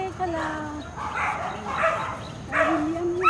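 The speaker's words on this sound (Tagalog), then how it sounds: "Gaawayan yung mga aso." Several dogs on a beach bark and yip in short, overlapping bursts, with snarling and whimpering suggesting a scuffle at close range, voices audible alongside.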